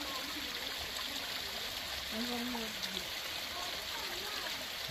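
A mountain spring with plentiful water flows in a steady, broad rush and gurgle, fairly close and continuous, while people talk briefly over it.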